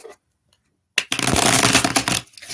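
A deck of oracle cards is shuffled up close, a burst of dense riffling and flapping that lasts about a second and a half after a short silence.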